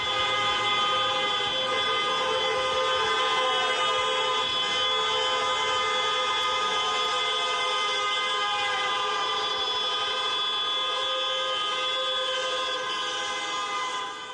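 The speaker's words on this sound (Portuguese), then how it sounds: "Nesta altura voltou a intensificar-se o barulho das buzinadelas" Car horns honk in a street protest by Benfica supporters demanding the club president's resignation, a dense, sustained chorus of overlapping tooting tones holding steady throughout without any talk.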